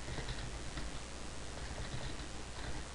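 Steady typing patters on a computer keyboard, a continuous close run of soft key clicks with no voice over it.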